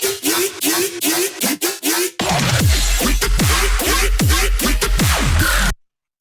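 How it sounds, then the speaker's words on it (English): A classic woolly bass synth patch built in Serum, loud and close, starting as choppy rhythmic pulses, then growing heavier with a deep sub layer and repeated falling pitch swoops before cutting off abruptly. "I'm going to show you how to make the classic island woolly bass,"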